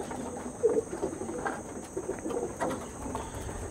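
Pigeons with jet-black beaks and slender purple feet coo softly at close range, low murmuring calls repeating over a steady background hum.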